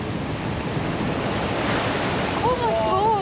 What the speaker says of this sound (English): I'm honestly mesmerised by these waves.